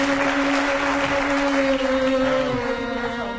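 Studio audience at a Georgian comedy game show applauds a contestant's introduction, an even, continuous patter of clapping over a sustained musical tone that tapers slightly at the end.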